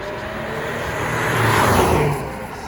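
A straight-piped Audi A5 3.0 TDI V6 diesel engine drones loudly and steadily, swelling in volume mid-way as it revs up, then easing back, with a rough, throaty low rumble.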